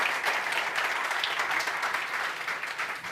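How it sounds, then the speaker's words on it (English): Warm audience applause at a startup networking event, a steady, close wash of many hands clapping that holds level throughout, with no voices over it. "we give them a warm applause for this"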